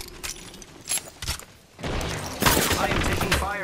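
Gunfire in the battle royale game Apex Legends: bursts of rapid shots crackle in short clusters, then a denser, louder stretch of sustained firing with sharp impacts, with no talk over it.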